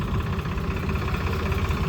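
A JCB 3DX backhoe loader's diesel engine idles close by while loading soil into a tractor, a loud, steady throbbing chug with a rough knocking pulse.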